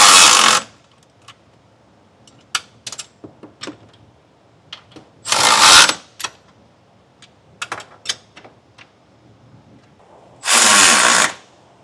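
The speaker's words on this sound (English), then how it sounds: "We can tighten our side bolts down with a 3/4 inch wrench and socket." A 3/4 inch wrench and socket tighten the side bolts of a TowSmart trailer hitch receiver on a 2023 Kia Telluride. Scattered close metallic clicks and taps are broken by three loud bursts of power-tool whirring.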